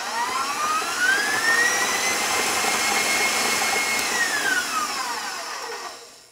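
An electric mixer beats an egg into cookie dough for Italian date cookies, a loud continuous high whine that rises in pitch, holds steady, then falls and fades out at the end.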